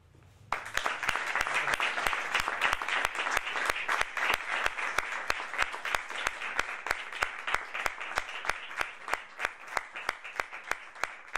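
An audience at a philosophy lecture on artificial intelligence breaks into sustained applause, many hands clapping densely and evenly for about eleven seconds before thinning into a few separate claps at the end.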